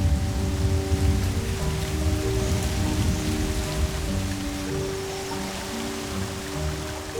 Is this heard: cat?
no